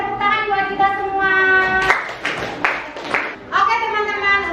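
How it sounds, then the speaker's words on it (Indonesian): A small group claps briefly in a few bursts between stretches of talk at a school workshop session, close and moderately loud. "tepuk tangan buat kita semua"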